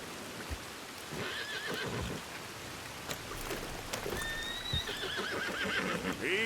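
In Red Dead Redemption 2, a horse whinnies and snorts during rainfall, with shrill neighs rising above a constant patter of rain and occasional hoof clops, all fairly close.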